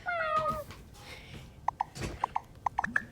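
A cat meows near the start, followed by a series of short, sharp chirps or clicks spaced irregularly over a low background, as cats watch a cat video.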